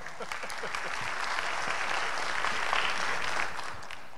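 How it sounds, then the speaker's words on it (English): An audience at a FOSSASIA conference talk applauds with dense, steady clapping for about four seconds before it tapers off. "Round of applause."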